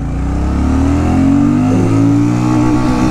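A Royal Enfield Super Meteor 650 motorcycle accelerates hard in first gear, its engine note rising steadily in pitch, loud and close, with no voices.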